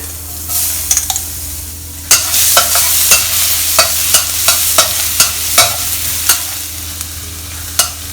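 Chopped garlic stir-fries in hot lard for claypot mee tai bak, a steady sizzle broken by a dozen or so sharp spatula scrapes and taps against the pan, close and loud, with no talking.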